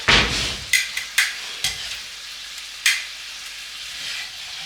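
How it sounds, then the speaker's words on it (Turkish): A soft, steady sizzle of garlic frying in a pan over low heat, punctuated by several sharp clinks and taps of a utensil against the pan. "kısık ateşte bunları güzelce böyle kızartacağız."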